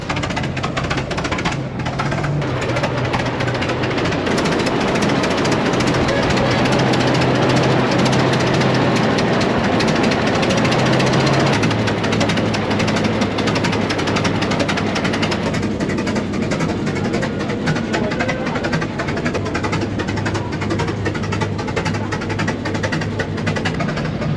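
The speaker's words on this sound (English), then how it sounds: "they're getting a few of these prairie tractors started up" Old two-cylinder prairie tractor engines, including an Avery, chug and putter steadily, a continuous loud mechanical drone with rhythmic knocking, running without pause throughout.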